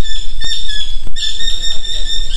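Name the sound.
bird calling in the Sundarbans forest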